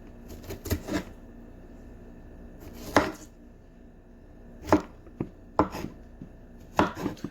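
A knife cuts strawberries into quarters on a board, several sharp chopping knocks in uneven clusters against a quiet background.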